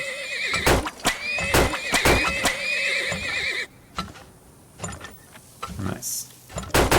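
Horses in the oil-business game Turmoil whinny loudly in a long, wavering neigh, followed by short clip-clop hoof sounds and scattered clicks from the game.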